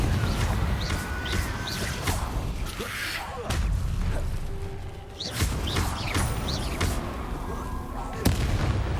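Confringo fire-blast spell explosions in the video game Hogwarts Legacy: several punchy bursts and booms at irregular intervals over a dense rumbling game soundscape, with a voice talking between blasts.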